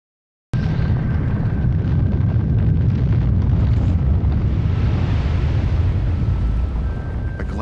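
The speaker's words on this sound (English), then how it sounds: "takes the same shots over and over while a volcano's going off in front of him" A volcano erupts in a continuous loud roaring rush that starts abruptly and holds steady, with wind buffeting the microphone throughout.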